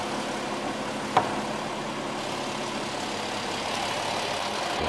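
A Porsche engine with a TR80-SD eight-speed automatic idles steadily during a transmission oil change, a low, even hum with a brief click near the start.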